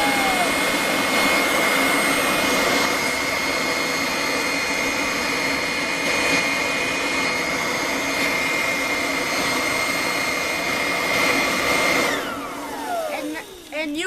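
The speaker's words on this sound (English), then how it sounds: "Now we're going to see if this hovercraft works and see if my Hard work has paid off." A homemade hovercraft runs with a loud, steady blower roar and a high whine held close by, then spins down and fades near the end.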